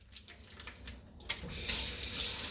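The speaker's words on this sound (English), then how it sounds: "We'll run our salmon again under the cold water." Cold water from a tap runs over salmon fillets, starting as a sudden steady gush halfway through after a few light kitchen clicks and clatters, with no voices.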